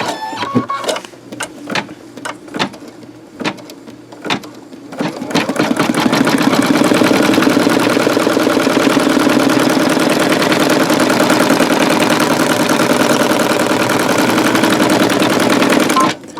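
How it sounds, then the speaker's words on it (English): An embroidery machine stitches a patch in pink thread, starting with a few sharp separate clacks before settling into a loud, continuous rapid mechanical whir and rattle that runs steadily to the end. "we're going to start embroidering"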